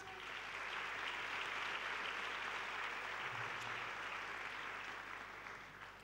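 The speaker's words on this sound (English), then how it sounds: "I think she deserves a round of applause." Sustained applause from a large audience at a closing plenary session of an education forum, steady broadband clapping filling the hall for about six seconds, fading slightly at the end.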